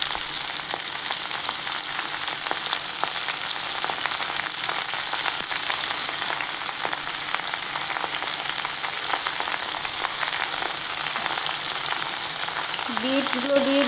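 Potatoes and carrots frying in a pan for a mixed vegetable dish, a loud continuous sizzle close up with faint scattered crackles and no talk, a short tonal clink near the end.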